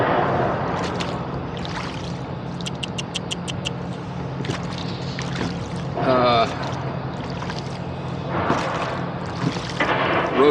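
Rowing boat on a river estuary heading out past container cranes, with steady water noise and oar splashes throughout and a brief rhythmic ticking burst near the start.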